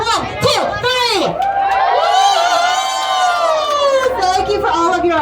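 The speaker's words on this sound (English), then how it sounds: "I want to hear your loudest cheer for our hardworking Hollywood crew members" A studio tour audience at Universal Studios Hollywood breaks into loud whoops, shouts and high-pitched cheering for the Hollywood crew members, a close, energetic burst of many voices sustained for several seconds.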